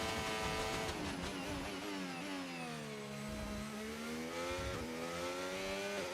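A Formula 1 car at full push during the Las Vegas Grand Prix in F1 25, its engine screaming loud and close, with pitch climbing and dropping through gear changes and a steady high-revving whine.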